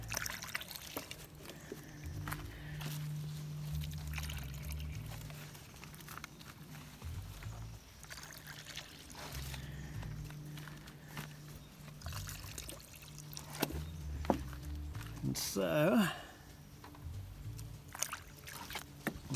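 Liquid beer solution is poured into a slug trap in a garden, giving a brief trickling pour near the end over a quiet outdoor background with low rumble.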